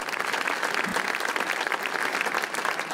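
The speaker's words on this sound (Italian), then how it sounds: "a cui va un applauso" Continuous applause from a sizable crowd at an outdoor Italian Republic Day concert in Gavirate, dense clapping holding steady throughout.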